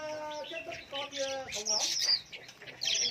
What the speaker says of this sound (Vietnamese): Dòng chim này dòng chim quế lâm.